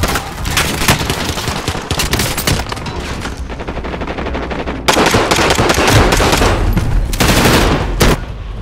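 Dense, loud gunfire from the video game Call of Duty Modern Warfare, rapid automatic bursts mixed with heavier shotgun blasts in near-continuous fusillade.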